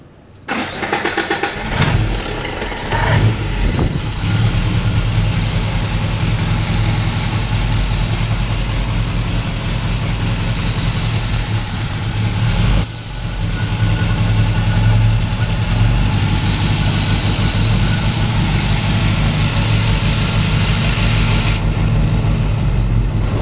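A 1952 MG TD roadster fitted with a Toyota engine cranks, catches and settles into a steady, even idle that runs loud and close, with a brief dip in the middle before the idle resumes.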